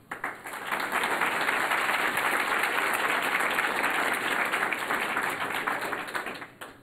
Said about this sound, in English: We wondered if the audience would clap after each name